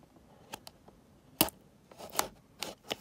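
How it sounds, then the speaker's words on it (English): Scissors snip through packing tape on a Hot Wheels case, a few sharp close cuts and crinkles spread over a few seconds in a quiet room. "Cut the tape."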